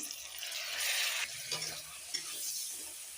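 Food is stirred and sautéed in ghee in a pan, with a continuous close sizzle and scraping stir strokes swelling and easing in short bursts.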